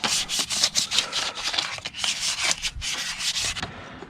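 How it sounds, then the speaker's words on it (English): Sandpaper of 320 grit scrubs across a car wheel on a 2016 Subaru Outback 3.6R Limited in steady back-and-forth strokes, a close, continuous gritty rasp with brief pauses between passes and no talking. "sanding the wheel."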